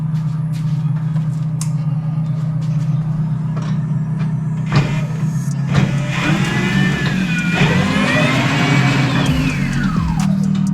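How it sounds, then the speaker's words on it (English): An electric motor in a Sega arcade driving cabinet converted to be drivable hums, then rises into a high, wavering whine that climbs and falls as the vehicle speeds up and slows down. "it turned out that the electric motor was quite loud"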